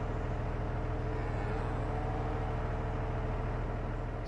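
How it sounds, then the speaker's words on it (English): A tractor engine in the farming video game Farming Simulator 25 drones steadily at a low, even pitch, loud and continuous with no speech over it. "Was that tractor too loud?"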